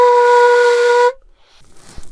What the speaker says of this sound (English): The way we blow is like a side blowing